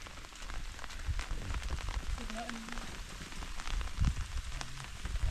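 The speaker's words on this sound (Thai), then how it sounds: "ฝนตก" Steady rain pattering on surfaces outdoors while pork grills, a dense crackling hiss throughout with brief faint voices and small clatters in the background.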